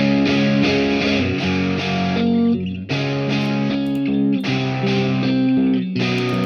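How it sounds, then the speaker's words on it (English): Several distorted electric guitar tracks from a rock song recorded in Studio One play together loudly and continuously, thick layered chords repeating in a steady pattern with brief breaks between phrases. "Let's hear that with the rest of the guitars."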